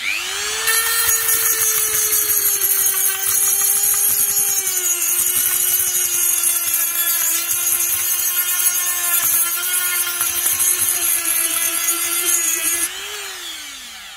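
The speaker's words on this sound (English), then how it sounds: "All you need is one of these, a Dremel." A Dremel rotary tool grinds solder off a circuit board's components, a steady high-pitched whine running continuously for about twelve seconds at close range, then dropping in pitch and fading as the tool spins down.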